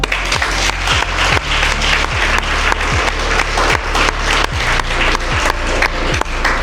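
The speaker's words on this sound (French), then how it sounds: "je veux que vous acclamiez et que vous félicitiez tous ceux qui ont agi" An audience at a university debate club event applauds steadily and loudly throughout, a dense wash of many hands clapping with no talking over it.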